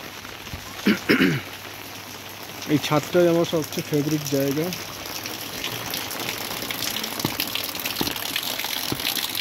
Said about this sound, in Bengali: এখন প্রচণ্ড বৃষ্টি হচ্ছে তো চারদিকে মেঘই দেখছি